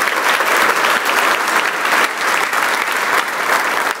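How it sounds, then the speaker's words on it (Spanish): A church congregation applauds in a steady, dense wash of many hands that keeps going without a break, loud and filling the room, with no voices above it. "denle un aplauso a Dios con todo su santo corazón"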